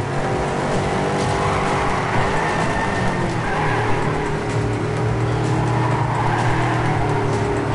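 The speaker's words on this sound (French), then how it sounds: "Hop, petit dérapage." Race car in the video game Trackmania 2 Canyon, a loud continuous engine roar with tire squeal as it drifts through a skid, steady and close throughout.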